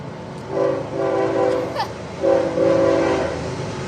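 A K5HL air horn on a GEVO locomotive sounds two long, loud blasts separated by a short gap, with rail noise rumbling underneath.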